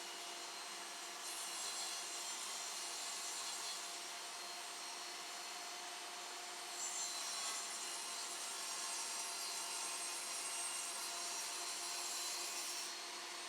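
A table saw fitted with a wheeled stock guide cuts a narrow strip of wood, giving a faint, steady hiss and whine that swells twice as the blade works through the piece, with no voices.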